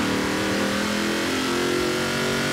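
A Corvette C8 races in Forza Horizon 4, its engine roaring continuously close-up, holding a loud, steady high-revving drone with slight pitch shifts and no pauses.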